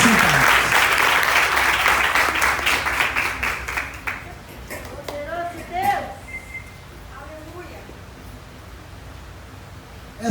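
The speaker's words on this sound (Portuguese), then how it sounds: "aplauda o Senhor." Church congregation at a family worship service claps loudly and densely for about four seconds, then the applause thins out and fades as a voice and scattered room sounds take over.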